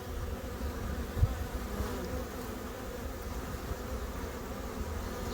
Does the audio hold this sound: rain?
no